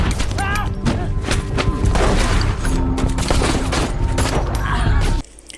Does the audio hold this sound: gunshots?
yes